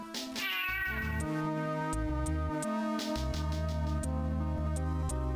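A cat meows after being poked in the video game Snatcher. The meows sound synthesized and sit over a looping chiptune-style musical background with ticking percussion, with no talking heard.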